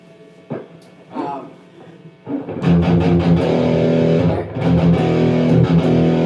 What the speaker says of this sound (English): It adds that kind of fluffy distortion.